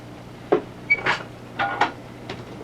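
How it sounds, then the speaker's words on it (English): An indoor door swings and thuds shut in a quiet office, a few close knocks and clunks in a short burst. "Close the door."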